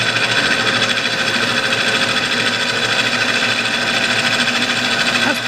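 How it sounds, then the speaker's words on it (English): A small metal lathe takes a heavy 50 thou cut in aluminum, giving a steady dense whirring hum with a fine rapid buzz that holds at an even, close, loud level the whole time. "That's 50 thou cut in aluminum right there."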